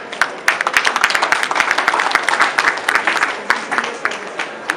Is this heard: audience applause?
yes